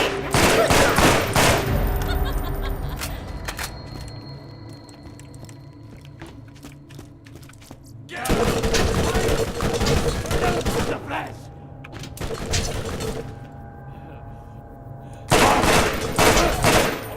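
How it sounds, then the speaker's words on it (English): Rapid bursts of rifle fire from a Dahl burst-fire rifle in Borderlands ring out in three loud clusters, with quieter shuffling and scattered game effects filling the gaps between volleys. "I know burst fire rifles don't make good close combat weapons, but this is just a really good burst fire rifle."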